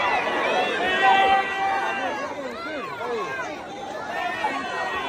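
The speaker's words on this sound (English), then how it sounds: "This is Giants Niners crowd and Niner fans fighting Niner fans" Stadium crowd noise from a Giants versus 49ers football game, with dense overlapping shouting and yelling during a fight among fans, loud and continuous throughout.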